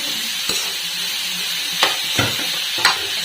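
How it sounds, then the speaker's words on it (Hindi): Chopped cabbage sizzles steadily in a hot pan for momo filling, with a few sharp scrapes and clinks of a stirring spoon against the pan. "ये मैंने पत्ता गोभी डाल दी है और पत्ता गोभी को फ्राई करूंगी इस तरीके से"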